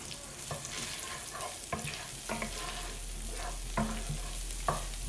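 Chopped onion softens in melted butter in a pan, giving a steady low sizzle broken by several sharp spatula scrapes and knocks at uneven intervals, close up, with no talking.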